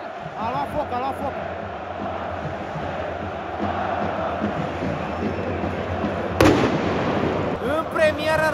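At the FCSB vs Rapid Bucharest football derby, fireworks go off inside the stadium. A dense crowd roar and chanting fill the air, a single sharp crack lands near the end, and voices keep going underneath.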